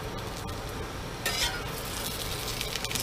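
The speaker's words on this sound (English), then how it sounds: "put it in the skillet, let you see what it looked like. Okay, so it's cooking." A homemade veggie burger sizzles and fries in a skillet, with a steady close crackle and a brief burst of brighter spitting partway through.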